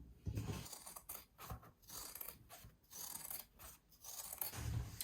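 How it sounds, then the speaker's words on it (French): Scissors trimming excess fabric from a freshly sewn fabric mask pouch, giving a series of quiet, close snips and metallic blade scrapes in irregular bursts over about five seconds. "Je viens couper l'excédent"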